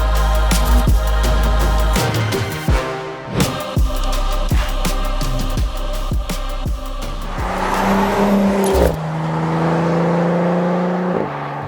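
An Audi S4 on Falken Azenis FK510 tyres drives with engine revving and a series of sharp gear-shift bursts, then a loud surge with tyre noise, followed by a steady, fairly close engine drone.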